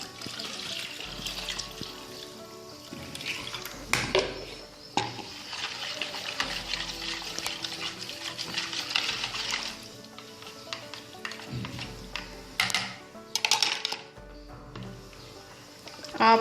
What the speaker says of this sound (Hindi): अब हम इसमें बाकी की लस्सी भी डाल देते हैं।